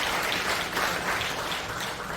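Sustained applause from an audience in a large auditorium at a Christian women's national prayer gathering, dense steady clapping filling the whole stretch without pause.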